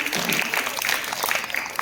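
Audience clapping at a rapid-fire round of a quiz competition, a steady dense patter of applause held at even loudness through the whole short stretch.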